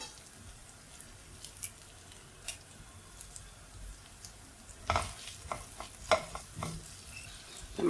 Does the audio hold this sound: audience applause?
no